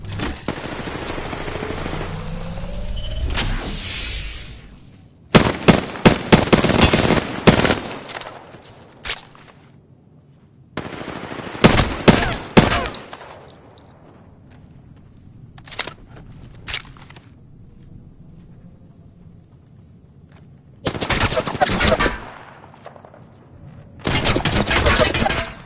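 Gunfire in a video game comes in loud, sharp bursts of rapid automatic shots, separated by quieter stretches.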